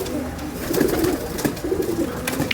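Pigeons coo in soft, repeated low rolling phrases at close range, with a steady murmur of background noise and a few faint clicks. The birds are kept by a pigeon fancier and show varied plumage patterns.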